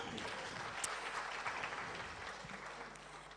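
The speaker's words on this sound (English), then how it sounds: "A round of applause for her." Steady applause from a conference audience, a dense wash of clapping that holds evenly throughout without fading.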